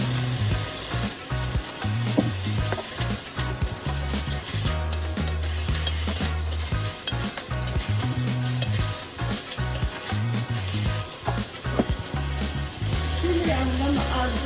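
Fish seasoned with adobo and black pepper sizzling in a pan, a loud continuous frying hiss and crackle with occasional stirring scrapes, steady throughout.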